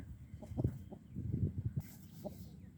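A nemali punju rooster gives a series of low, short clucking calls in uneven bursts, fairly close, with a brief higher sound near the end.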